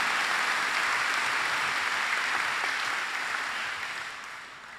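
Graduation ceremony crowd giving a dense, sustained round of applause, a full wash of clapping that slowly fades toward the end.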